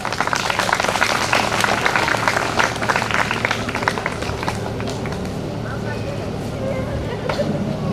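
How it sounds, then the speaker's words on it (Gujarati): A crowd applauds with sustained clapping for a CRC officer welcomed on stage at a Saraswati idol installation ceremony, the dense applause steady throughout and fading slightly toward the end, with background murmur. "જોરદાર તાળીઓથી આપણે વધાવીશું"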